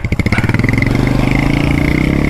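A light motorcycle engine chugs loudly and close at low speed on a rough track near the Hesakocha waterfall in Jharkhand, with a fast, steady exhaust pulse and rattling clatter and no talk.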